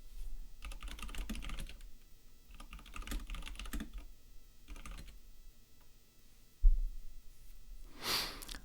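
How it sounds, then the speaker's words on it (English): Close computer keyboard typing in short clustered bursts of clicks, followed by a single sharp thump and a breathy sigh or sniff near the end. "Maybe if I just type drink me."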